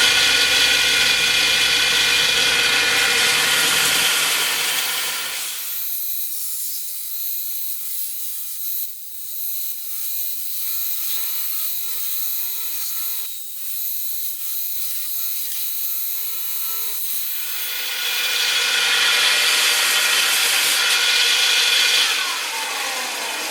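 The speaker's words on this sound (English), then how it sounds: "here we go with another workout on the belt sander" A belt sander rounds over the edges of a wooden Thanksgiving light box, its noise rising, dropping to a quieter grinding rub in the middle, then swelling loud again as the wood is pressed to the belt.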